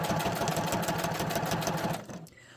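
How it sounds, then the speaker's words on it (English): A sewing machine top stitches a Velcro patch in a fast, steady mechanical whir close by, then stops abruptly near the end. "We're going to stitch very close to the edge, pivoting on all corners and back stitching at the start and the end."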